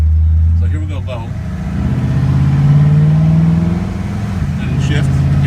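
A 1957 Ford Fairlane Sunliner convertible's engine idles and then revs as it is shifted into low gear, a close, rumbling mid-pitched engine whose pitch rises and falls, with someone talking over it.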